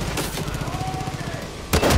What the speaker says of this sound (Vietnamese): Cái súng này bắn nó phản lực lớn quá.